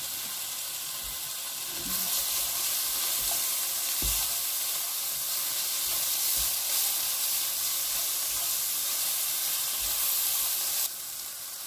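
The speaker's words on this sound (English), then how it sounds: "We're just going to stir fry this for a few moments" Spices with black cardamom and bay leaves stir-fry in a hot pan for kofta pilau, a steady loud sizzle and hiss with occasional scraping stir clicks throughout.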